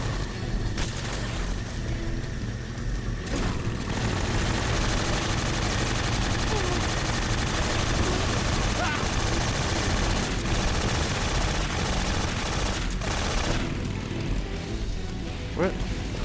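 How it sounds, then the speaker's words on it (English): Rapid gunfire rattles throughout a Metal Gear Solid 3 gameplay session, with bursts of shots and booms in a continuous busy mix under a player's talking. "Oh crap, there's things shooting at me."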